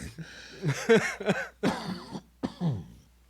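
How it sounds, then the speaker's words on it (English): A person coughs several times in short, throaty bursts with brief pauses between them, close to the microphone. "that's my second cough. That's not as dry of a cough as I need it to be."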